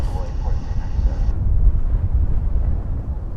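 An American Eagle airliner takes off at DFW airport, a loud steady engine roar with rumble and wind buffeting that eases slightly as it climbs away.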